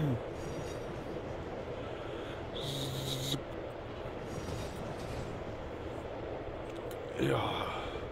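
Train rolling slowly into a small station in the train-simulator game ProTrain Perfect 2, a steady low rumble with a brief rising whine midway and a louder squeal near the end.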